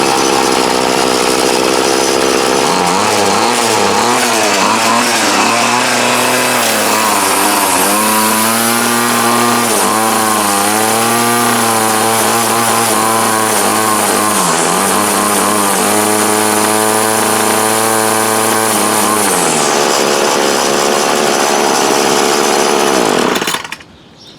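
A Troy-Bilt TB20CS string trimmer, an older yard-sale unit, runs loud and close, its small two-stroke engine revving up and down in rising and falling whines before dropping to idle and cutting off.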